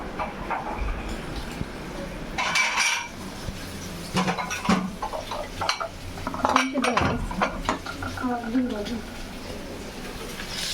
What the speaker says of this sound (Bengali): মেহমান আসবে এর জন্য যে কাছের প্লেট গ্লাস এগুলো বাইরে বের করতেছে ধুইতে হবে